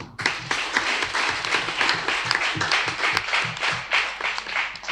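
An audience at a youth event in the commune of Pobè, Benin, gives a dense, steady round of clapping that carries on without pause.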